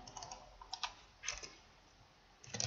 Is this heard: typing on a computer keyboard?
yes